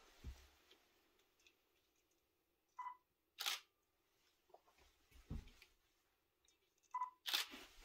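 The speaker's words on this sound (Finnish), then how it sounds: "Vielä valokuvan tuosta." A camera shutter firing to take a photograph, two distinct mechanical clicks a few seconds apart, each with a small beep and a sharp snap, close in an otherwise quiet room.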